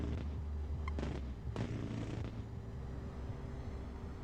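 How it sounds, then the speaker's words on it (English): Gunfire igniting explosives in a war strategy video game: a sharp shot followed by low rumbling booms that roll and fade under a steady background drone. "This should ignite nicely with a gunshot."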